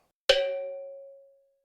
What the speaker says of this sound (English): ding dong the bell